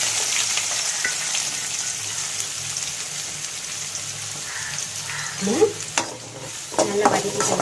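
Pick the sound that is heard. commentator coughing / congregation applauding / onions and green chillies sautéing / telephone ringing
onions and green chillies sautéing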